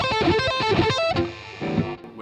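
Distorted electric guitar on the neck pickup plays fast sweep-picked arpeggios in a metal style, with rapid single notes cascading up and down, then a held note ringing out alone.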